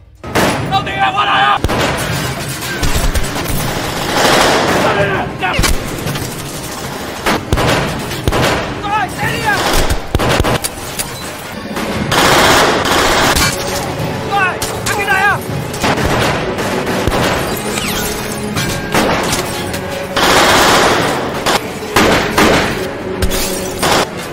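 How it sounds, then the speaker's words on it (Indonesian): An action film shootout between two rival gangs fills the scene with loud, dense volleys of gunfire, heavy blasts and shattering glass, nearly continuous throughout. "Kedua kubu pun saling menyerang adu tembak."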